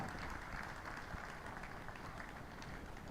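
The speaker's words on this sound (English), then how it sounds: "Please a round of applause for the MD," An audience at an NDDC sensitization program for Niger Delta chambers of commerce applauds the managing director and CEO, a soft, steady wash of clapping heard from a distance, faint and even throughout.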